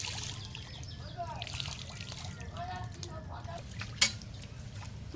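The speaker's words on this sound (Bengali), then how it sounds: "পুকুরে বাসন মাজার আলাদাই মজা না?" Dishes and pots being scrubbed and rinsed in pond water, with soft scraping, trickling and splashing, a sharp clink near the end, faint voices, and steady low background rumble.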